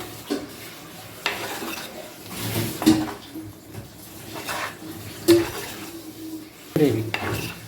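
Chicken curry being stirred in a pan with chicken masala, a spoon scraping and clinking against the metal in irregular strokes with a faint sizzle underneath, close and moderately loud.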